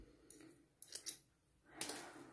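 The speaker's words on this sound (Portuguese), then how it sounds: "E agora, eu vou cortar." Scissors snip a fabric tag on a denim ribbon tiara, giving three quiet, close, crisp cuts separated by silence.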